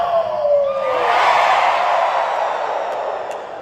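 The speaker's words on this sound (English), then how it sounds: "Can I hear a cheer?" A large crowd at a D23 Disney event cheers and whoops in one loud swelling burst that holds for a few seconds and then slowly fades.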